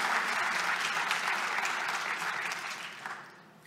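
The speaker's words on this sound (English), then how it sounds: "give a round of applause" Conference audience applauding after a cloud-native telecom observability presentation, dense sustained clapping from a full room that tapers off toward the end.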